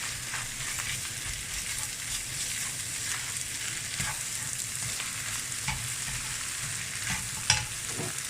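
Blanched noodles stir-fry in hot oil for chicken pad see ew, a steady soft sizzle broken by repeated scrapes and taps of a spatula against the pan.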